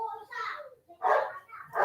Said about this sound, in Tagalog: Ang ingay ng mga bata, ng mga aso.